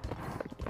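Galloping horse hooves in the Horse Simulator VR game, quick rhythmic clip-clop beats thudding close and loud across the short moment, with a faint voice underneath.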